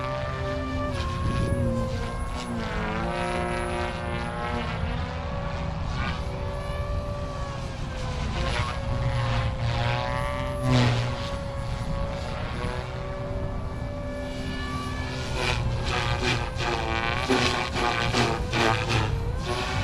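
RC helicopter in flight at idle up, rotor and motor droning loudly and continuously, pitch rising and falling as the collective is pushed hard and the power bogs.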